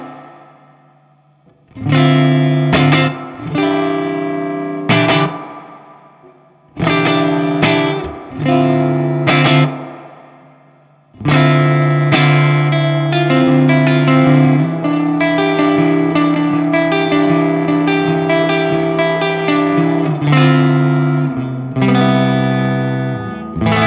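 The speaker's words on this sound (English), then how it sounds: "let's turn the reverb up and have a listen." Electric guitar through a 100W Marshall Super Lead 2959 amp with reverb turned up, playing distorted chords in bursts then a sustained riff, loud and close with a reverb tail and no talking.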